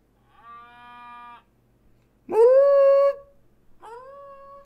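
A human voice imitates a cow, giving a drawn-out moo, then a louder, rougher moo, then a short third one, with pauses between.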